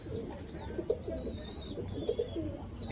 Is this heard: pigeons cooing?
yes